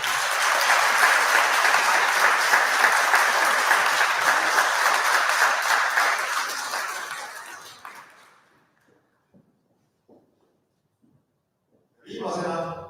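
A crowd applauds loudly for several seconds at a school ceremony, then the clapping fades to near silence before a short burst of applause returns at the end.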